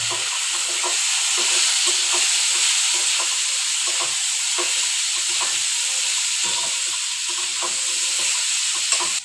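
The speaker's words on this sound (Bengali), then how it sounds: "আলুগুলো দিয়ে দিচ্ছি দিয়ে আলুগুলো একটু ভেজে নেব" Potatoes sizzle steadily in hot oil with dried chillies, a loud continuous hiss with repeated scraping stirs at an irregular rhythm throughout.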